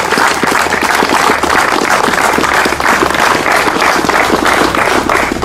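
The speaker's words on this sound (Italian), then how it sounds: "io vi chiedo un applauso veramente per ricordare queste persone" Loud, dense applause from an outdoor crowd at a memorial for the Capaci massacre victims in San Luca, Calabria, continuous and even from start to finish.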